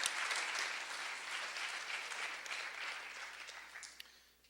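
A school sports awards audience claps for a badminton coach, a dense patter of many hands that starts strong and gradually fades, with a few sharp claps near the end.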